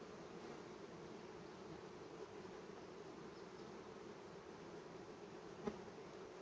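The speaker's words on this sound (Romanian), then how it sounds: "Prima dată am urmărit dacă albinele între ele se bat." Honeybees hum in a low, even drone while two swarms are being united in a hive. The buzzing is faint and continuous, with one brief louder knock near the end.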